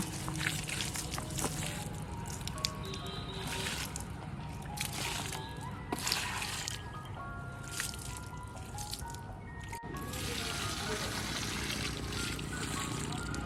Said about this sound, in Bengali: গাছে একটু জল দিয়ে দিই পুরো শুকিয়ে গেছে গাছগুলো